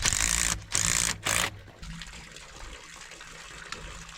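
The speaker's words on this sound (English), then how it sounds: "This is how fast that spring will run right there." Spring water runs at about five gallons a minute into a restored hundred-year-old hillside water tank. Loud rushing bursts come at first, then settle into a quieter steady trickle.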